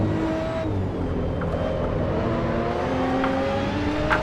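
Racing car engine in the racing game Assetto Corsa, a sustained close engine drone with rising and shifting revs, alone without talk.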